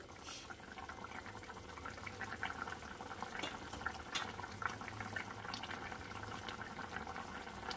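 A pot of chapila fish curry with eggplant and potato simmering on the stove, giving a faint, steady bubbling and watery churn with no talk over it.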